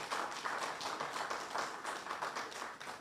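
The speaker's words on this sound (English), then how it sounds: "Shall we give a round of applause to..." Audience applause at the 6th African Actuarial Congress: a steady patter of many hands clapping in a hall for about three seconds, fairly soft and even throughout.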